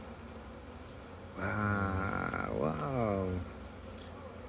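Loud, dense buzzing of honey bees swarming around an open beehive with frames of pollen and stores, swelling close up for a couple of seconds over a low background hum, with a brief spoken exclamation.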